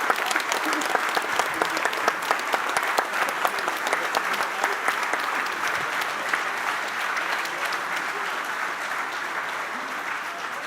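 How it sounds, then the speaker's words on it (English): Sustained applause from an audience at an exoskeleton reveal, honoring members of the embedded and electrical engineering teams; the clapping is dense, even and continuous for about ten seconds, with faint talk beneath. "Can I get an applause for embedded and electrical departments, Diana, Bram, Arnoud,"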